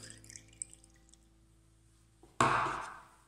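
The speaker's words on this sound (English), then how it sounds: "Pour the oil in." Soy milk and oil, the two ingredients of a quick soya cream, with a short burst of liquid being poured into a container, splashing loudly for about a second before trailing off after quiet kitchen ambience and faint drips.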